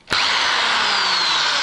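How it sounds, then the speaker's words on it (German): A power drill bores pilot holes at marked spots for a skateboard axle mount, starting abruptly and then whining loud and steady at close range with no talk. "Und bohren einmal kurz die Markierungen vor"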